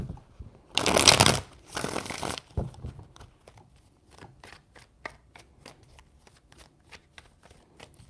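Tarot cards are riffled and shuffled close by in two loud bursts, then a run of softer, quick taps and flicks as the deck is handled and squared.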